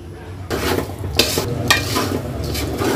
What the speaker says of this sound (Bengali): আর একটু ভালোভাবে চালগুলো ভেজে নিব